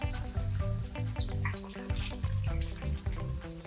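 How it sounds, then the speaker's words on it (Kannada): Jackfruit kabab pieces frying in hot oil, giving a steady close sizzle and bubbling crackle throughout, with no talking. "ಇವಾಗ ಒಂದೊಂದೇನೆ ಎಣ್ಣೆ ಒಳಗಡೆ ಹಾಕೊಳ್ಳೋಣ."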